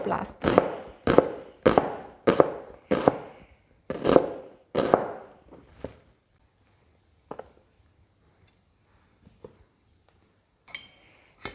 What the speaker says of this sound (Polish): Zaczniemy od pokrojenia cebuli